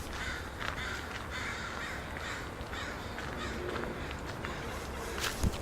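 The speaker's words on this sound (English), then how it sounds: "what's with all these crows and stuff here just circling everywhere?" Crows caw repeatedly over a steady outdoor background, several harsh calls scattered throughout, moderately distant, with no talking.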